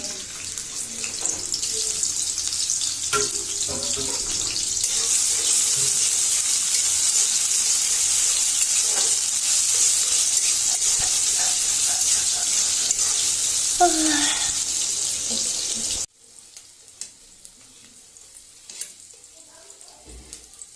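Oil hisses steadily in a pan before helencha greens go in, a bright, even sizzle that holds for about sixteen seconds and then cuts off, leaving faint kitchen noise.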